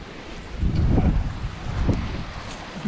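Water rushes out through a beaver dam blasted open with tannerite, a steady low roaring wash with wind buffeting the microphone, swelling and easing without any voices.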